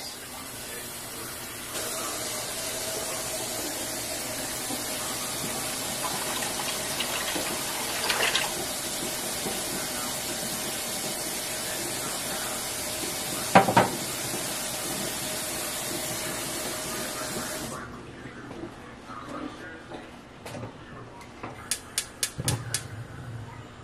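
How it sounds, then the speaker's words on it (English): About two cups of water pour into a pot of keto spinach soup as a steady splashing stream, fairly quiet, stopping near the end and followed by a few light clinks. "Now, what I'm going to do is add some water, about 2 cups."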